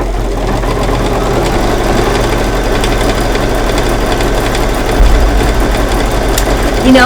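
An embroidery machine sews a straight stitch with a loud, continuous, steady mechanical whir and rapid needle rhythm that fills the whole stretch with no break.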